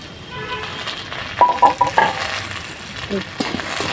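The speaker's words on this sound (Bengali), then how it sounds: "ভাজা হচ্ছে, একটু বাকি আছে, আর একটু ভাজবো।" A jackfruit seed dish frying in a pan, with a steady close sizzle and bursts of stirring and scraping as the pieces are turned.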